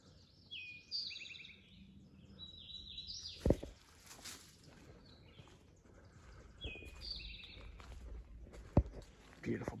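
Birds sing in a thick Midwest woodland near a campsite, repeated bright trilling phrases coming through in bursts, with a couple of sharp knocks and a faint rustle of footsteps in the background.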